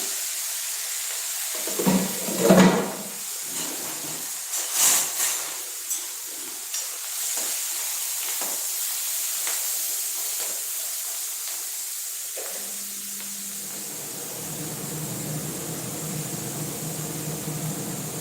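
Garlic, onion and fenugreek fry in a pan, producing a long steady steamy hiss, preceded by a few clattering handling knocks, with a low hum entering later.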